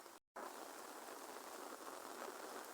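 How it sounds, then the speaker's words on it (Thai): Rain falls in a rural setting where buffalo are being herded, a steady faint hiss that briefly drops out near the start and then continues evenly. "ตอนนี้ฝนตกอยู่ทุกคนเอ้ย"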